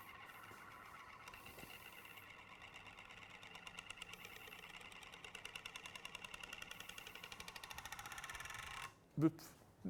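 A spinning disc rattling on a flat surface, its fast whirring chatter speeding up and growing louder until it ends in a couple of sharp knocks, close and mostly alone.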